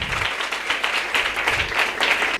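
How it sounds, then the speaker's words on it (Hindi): Audience at a healing prayer gathering in Sheikhupura clapping loudly, dense continuous applause in rhythmic waves for a couple of seconds before cutting off abruptly. "चलिए एक बार और जोरदार तालियां।"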